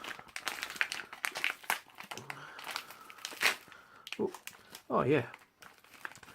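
Thick foil packaging around rye crispbreads crinkles and rustles in bursts, close to the microphone, while a person talks over it.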